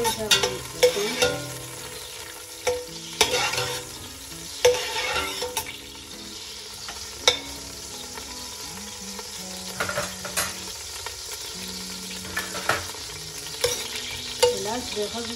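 Something melting in a pan sizzles steadily and close, a soft crackling hiss broken by repeated scraping stirs and utensil taps against the pan, no talking over it.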